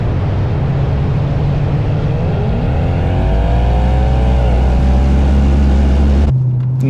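A Mercedes CLS 63 AMG with a V8 engine revs hard from close by, its loud rumbling note climbing in pitch, holding high, then dropping and cutting off abruptly near the end.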